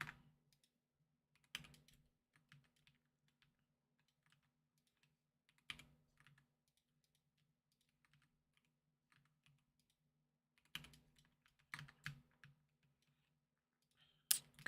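Sparse bursts of keyboard typing, a few quick clusters of key clicks separated by long quiet gaps, with a low steady hum underneath.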